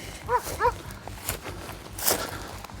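Dogs barking outdoors beside a road in Albania during a long walking journey, a couple of sharp barks early on followed by scattered faint calls and footsteps over rustling background noise.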